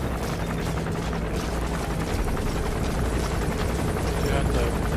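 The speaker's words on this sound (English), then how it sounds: "I'm gonna mark the helicopter" A helicopter in the video game Metal Gear Solid V: The Phantom Pain drones steadily with a loud, continuous rotor roar filling the scene, with a voice talking underneath.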